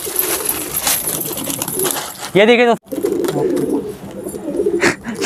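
A pet pigeon gives a short, clear coo close by, cutting in between a man's speech, with shuffling and clicks around it.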